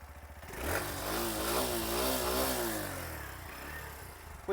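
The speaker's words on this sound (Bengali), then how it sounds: "এবার শুনুন গ্ল্যামারের যে এক্সস্টের সাউন্ড সেটা আমি আপনাদেরকে একবার শুনিয়ে দিচ্ছি" Exhaust of a Hero Glamour X 125 motorcycle heard up close: a low, throbbing idle swells into a sustained rev that rises and falls smoothly, then settles back toward idle.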